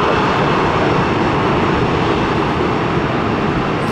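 A Boeing 737 MAX jet roars loudly and steadily nearby at an airport, a dense broadband engine rush that holds unbroken without voices.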